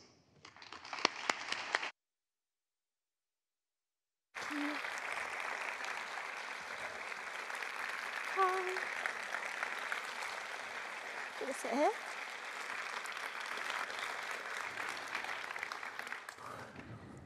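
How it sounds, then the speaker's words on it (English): A brief burst of clapping, then a pause before sustained audience applause fills the room, steady and moderately loud. "them with a round of applause."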